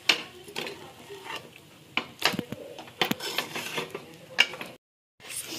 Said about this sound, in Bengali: সবজি ডিম সব মিক্স করে এবার এটাকে নাড়াচাড়া করে নিতে হবে।